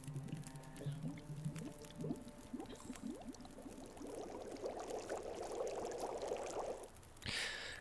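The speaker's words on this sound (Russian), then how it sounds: "Вскипятить воду, 2 литра." Two litres of water boiling in the survival game The Long Dark, a rising bubbling and gurgling that builds steadily for several seconds before ending in a brief brighter sound effect.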